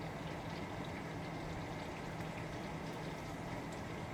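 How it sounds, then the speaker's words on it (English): Onions frying in oil give off a steady, dense sizzle and crackle that runs without a break at a low, even level. "Now we're just going to wait a couple minutes till they're fried."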